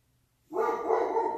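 A house dog lets out one drawn-out, tonal bark that is loud and close after a quiet start and holds for most of the second before fading slightly.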